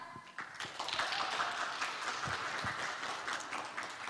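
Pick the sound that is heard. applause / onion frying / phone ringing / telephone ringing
applause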